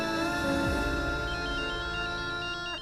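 Phone ringtone playing a melodic electronic tune, loud and continuous for nearly three seconds with no talk over it.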